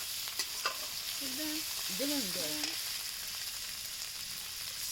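Spices for a river fish curry sauté in hot oil with a constant close sizzle and a few utensil clicks early on, while a brief faint whistling tone rises and falls over the frying.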